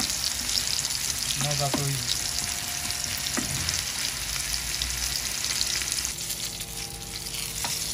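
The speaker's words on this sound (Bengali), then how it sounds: "আমাদের বেগুন ভাজি হয়ে গেছে" Eggplant slices, home-grown on a rooftop garden, fry in a pan with a steady broadband sizzle throughout, while a voice speaks briefly over the cooking and occasional faint clinks cut through.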